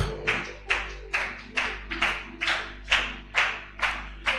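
A church congregation claps in unison to acclaim the Lord, giving sharp, loud, regularly spaced claps at a steady rhythm of about two per second in a reverberant room, with no voices.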